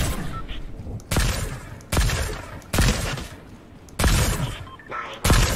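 Gunfire in Fortnite comes in repeated loud bursts, roughly one every second, each a sharp crack with a booming tail, close and dominant, with faint voices in the background.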